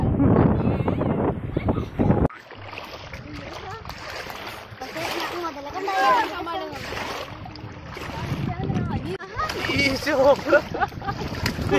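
A person splashes and plays in the water at Chimmini Dam on a misty day. Irregular splashes sound close, mixed with gusty wind noise on the microphone and voices.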